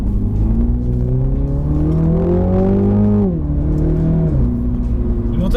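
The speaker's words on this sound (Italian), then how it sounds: "Il motore tira veramente tanto, perché per essere una macchina così piccola e compatta la potenza è sbalorditiva." A 2020 Mini JCW GP with a 2-litre turbocharged four-cylinder pulls hard under acceleration, its loud engine note climbing steadily, dropping briefly at a gear change, then rising again from close by.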